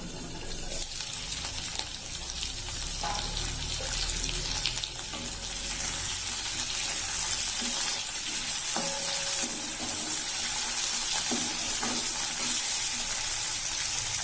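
Brinjal pieces sauteing in a pan, a steady close sizzle and crackle running throughout with occasional stirring clinks, no talking.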